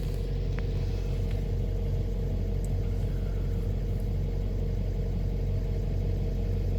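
A 2008 Chevy Express ambulance engine, just started and idling with an oil pressure issue, gives a steady, loud, low rumble that holds even and unbroken throughout.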